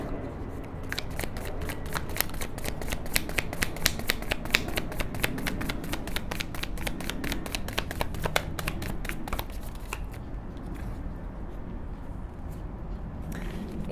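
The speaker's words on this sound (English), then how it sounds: "I know I've done a lot of shuffling there" Tarot cards being shuffled in a fast, steady riffle of crisp clicks for about ten seconds, close and fairly loud, then stopping into quiet room tone.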